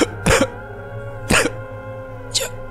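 A woman in distress coughs hard in three separate harsh bursts, about a second apart, over a low steady background hum.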